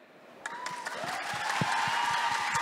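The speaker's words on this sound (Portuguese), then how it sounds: "Eu amo quando vocês aplaudem" An audience at a book fair panel on LGBTQIA+ young adult literature applauds, a dense wash of clapping that swells and holds steady over a few seconds.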